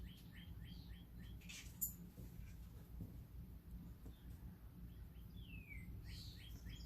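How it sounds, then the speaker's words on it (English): Wild birds chirping at a feeder in Michigan: short repeated tweets and a brief whistled call, faint and somewhat distant over low background hum, with a single sharp click midway. "I love feeding the birds here in Michigan."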